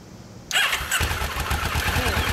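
A stock-exhaust 2011 Kawasaki Ninja 650R motorcycle starts after a quiet moment, catching abruptly and then settling into a loud, steady, close idle with a throbbing rhythm.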